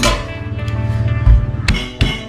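Garlic cloves are crushed roughly on a kitchen board, with a couple of sharp thuds and knocks against low background hum, close by.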